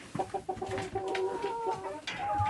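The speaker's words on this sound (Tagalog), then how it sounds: "How are you, chicken?" Farm chickens clucking in a short series of close, repeated calls with a brief crowing note, small clucks and rustling around them, no one talking.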